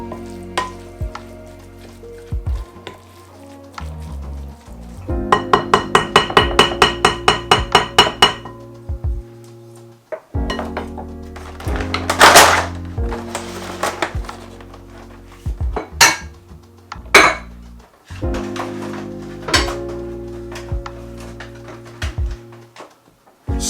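Canned salmon patty mixture is mixed in a bowl. Utensils scrape and clatter against the dish, with rapid rhythmic clinking in bursts and sharper knocks between them. Nobody speaks.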